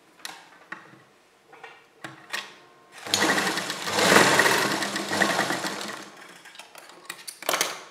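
A sewing machine stitches a strip of fabric for a neck and sleeve pattern, running in one loud, close burst of about three seconds after several short clicks and handling taps, then stopping, followed by more brief clicks.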